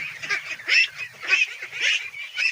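Ducks kept on a farm give a run of repeated honking quacks in an uneven rhythm, several birds calling close by with no talk.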